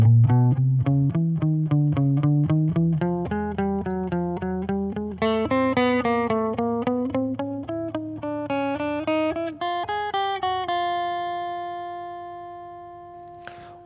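Electric guitar runs a chromatic warm-up exercise in rapid sixteenth notes, each picked note crisp and even as the line climbs steadily, then settles into a final ringing chord that fades out.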